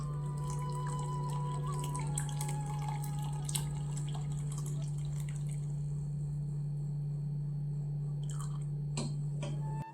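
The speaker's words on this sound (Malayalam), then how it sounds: "അരിച്ചൊഴിച്ചു കൊടുക്കാം." Strained liquid jelly mixture made with china grass is poured over cut fruit in a bowl, a faint trickling with soft wet drips and splashes over a steady low hum, quiet and close, with no talking.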